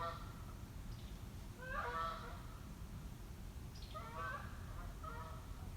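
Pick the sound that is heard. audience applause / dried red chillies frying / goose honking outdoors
goose honking outdoors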